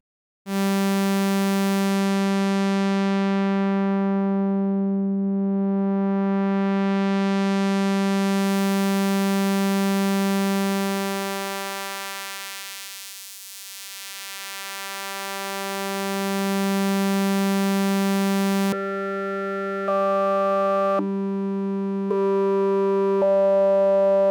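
A steady pitched tone built from a sine wave fundamental and a stack of evenly spaced harmonics holds for a long stretch, dips and swells in loudness midway, then steps through brief changes in its overtone makeup near the end.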